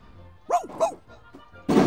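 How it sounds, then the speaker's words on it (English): Cartoon dog yipping in an Xbox video game, two short high yips close together, followed by a burst of louder broadband game noise. "Dogs go woof, not yip, yip, yip."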